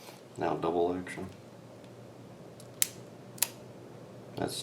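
Double-action trigger pull on a Ruger GP100 Match Champion .357 Magnum revolver, a man's short remark followed by two crisp separate metallic clicks and a faint third snap in a quiet room.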